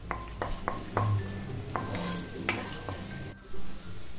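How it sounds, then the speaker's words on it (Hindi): Ginger and about fifteen garlic cloves frying in a pan, a faint sizzle under several sharp metallic clinks and scrapes of a spoon stirring against the vessel. "अब अदरक और लहसुन की कच्ची महक जाने तक इन सबको भून लें।"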